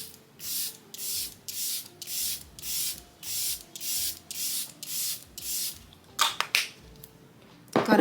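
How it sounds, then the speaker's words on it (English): Makeup setting spray hisses in quick bursts repeating in a steady rhythm, about ten short pumps close by, followed by a few rustling sounds. "We're gonna spray a bit of setting spray."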